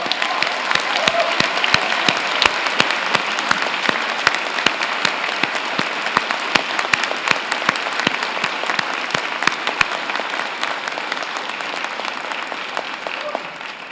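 A large audience at a fall university convocation breaks into a vigorous round of applause, dense sustained clapping from many hands that fills the hall steadily and slowly tapers near the end.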